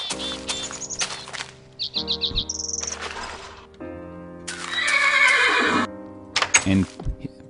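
Several horses in Minecraft whinny and neigh in short bursts, loud and close, with blocky game sound effects and chirps between the calls and no talking.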